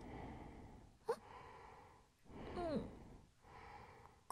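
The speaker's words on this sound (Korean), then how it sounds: "아까부터 숨 쉬는 것 같은 소리가" Eerie breathing in a Japanese horror game set in an otherworldly school: a faint sharp intake, then a slow, drawn-out breathy sigh mid-clip and a softer exhale after it, all quiet and close against a low ambient hum.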